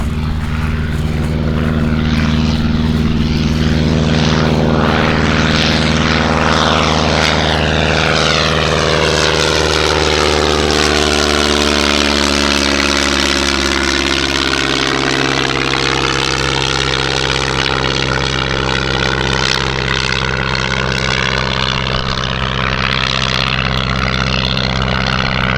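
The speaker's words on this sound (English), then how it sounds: "Here comes our friend the biplane." A vintage biplane's propeller engine drones loudly and steadily as it passes low overhead at a vintage aircraft fly-in, its pitch sweeping downward as it goes by, with no talk over it.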